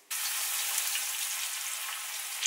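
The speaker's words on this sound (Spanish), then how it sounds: "Le ponemos un poco de aceite para freír nuestras milanesas" Milanesas sizzle in a generous amount of hot oil in a frying pan over medium-high heat, a steady, bright crackling hiss that starts abruptly and holds close and even throughout, with no talking.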